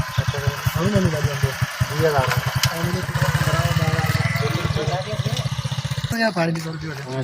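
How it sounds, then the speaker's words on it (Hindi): Motorcycle engine running close by with a steady throbbing idle that revs briefly, while people talk over it. "वो मोटरसाइकिल"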